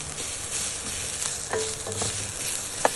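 Spices and chili powder fry in a pan for mutton kuzhambu, giving a loud steady sizzle with occasional scraping stirs and a sharp clink near the end.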